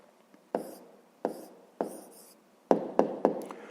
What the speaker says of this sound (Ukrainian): А тепер записуємо відповідь, пишемо відповідь.